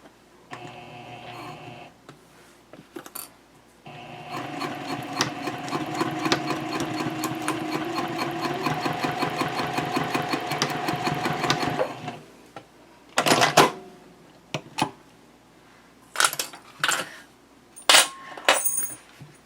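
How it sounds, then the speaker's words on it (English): A sewing machine runs a quarter-inch seam with backstitching on a black messenger handbag handle: a close, fast mechanical whir for several seconds after a brief start, followed by scattered clicks and short handling bursts. "So now we'll just sew our 1/4 of an inch seam, and you want to back stitch at both ends"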